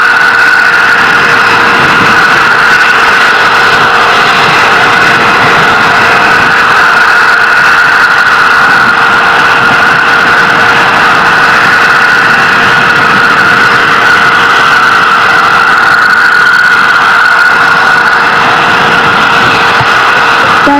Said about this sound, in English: First stage engines are continuing to fire, as they will until about the 5-minute 46-second mark into the flight